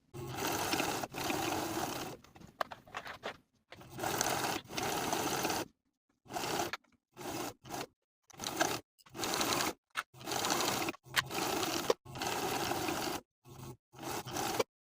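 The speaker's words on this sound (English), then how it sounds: "For the top, bottom, and side edges, we're going to edge stitch close to the outer folds" Sewing machine edge stitching close to the outer folds of a winter pajama pocket, running in loud bursts of rapid whirring stitches separated by short pauses, with no voice present.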